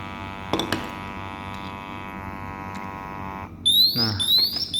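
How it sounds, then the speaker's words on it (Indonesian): A Honeywell BW Max XT II gas detector gives a steady electronic hum with harmonic tones for a few seconds, then cuts off, followed by rapid rising chirping alarm beeps, loud and close. "otomatis alarm berbunyi"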